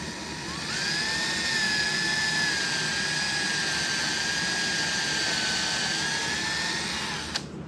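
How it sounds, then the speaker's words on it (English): A power drill whines steadily for several seconds as it bores into wood, its pitch holding fairly constant before stopping abruptly. "I'm going to drill a pilot hole through the end of this board here"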